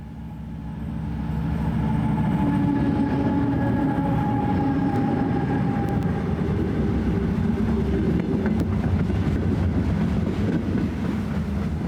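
A train passes with a loud, steady rumble and rattle that swells over the first two seconds and then holds close and continuous to the end.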